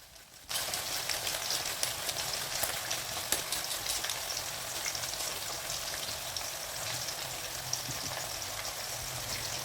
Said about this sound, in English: As the plantain is frying in the oil, at intervals you have to keep turning it over